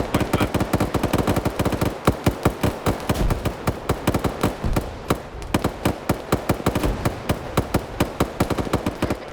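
Sustained automatic gunfire in a squad-based military video game battle, rapid loud bursts in a dense rhythmic stream with only a brief lull midway.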